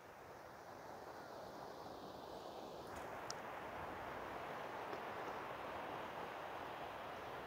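Sea waves and wind where a river meets the sea in Phuket, Thailand: a steady, even wash of broadband surf and wind noise throughout, with a faint brief hiss near the middle.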